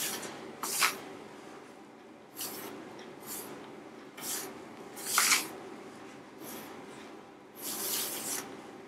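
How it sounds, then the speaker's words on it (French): Bread dough being worked with a scraper in a bowl with flour and salt, heard as several soft, wet scraping and squishing strokes in irregular bursts, close and fairly quiet, with no talking. "J'utilise maintenant ma raclette. Je mélange le tout."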